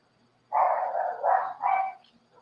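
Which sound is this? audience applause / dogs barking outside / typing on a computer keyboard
dogs barking outside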